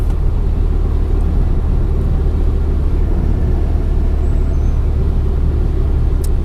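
A stock 20-year-old BMW E36 318 with 115 hp and an open differential drives along, its engine and road noise forming a steady, loud, even drone throughout, with no talking.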